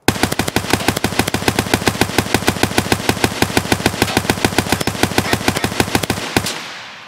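Full-auto rifle fire in Escape From Tarkov, a 60-round magazine emptied in one long burst from an aimed crouch: rapid, evenly spaced loud shots hammering for about six seconds, then stopping abruptly with a short decaying tail.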